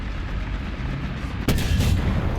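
A tank cannon fires at a turret ring in War Thunder ground battle gameplay, a single loud boom over a continuous rumbling engine drone.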